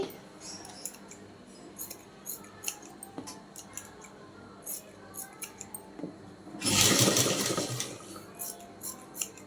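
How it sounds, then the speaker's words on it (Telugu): Scissors snipping waste fabric pieces for a blouse neck, a series of short close crisp snips with a louder rustling burst of cloth handling in the middle. "ఇలా ఇవన్నీ కూడా వేస్ట్ పీస్ని కట్ చేసేసుకోవాలి"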